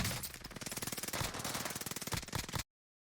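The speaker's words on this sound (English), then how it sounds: "the gunshots come from the right-hand side" Rapid bursts of automatic gunfire in the video game Warzone crackle in quick succession for a few seconds, sharp and dense, then cut off abruptly into silence.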